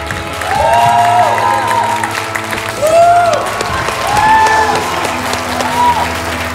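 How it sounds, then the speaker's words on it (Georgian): Studio audience applause on a Georgian television singing show as contestant Mariam Chachkhiani is seen off, steady clapping and light cheering running throughout under music and a host's voice. "აპლოდისმენტებით გავაცილოთ მარიამ ჩაჩხიანს"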